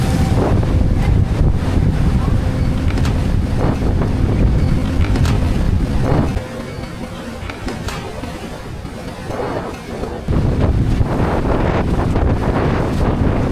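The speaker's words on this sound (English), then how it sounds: "So windy out here." Strong wind buffets the microphone in a steady, heavy roar at night on a rough sea aboard a prawn fishing boat, with the rush of water and boat noise underneath; it eases briefly midway, then returns.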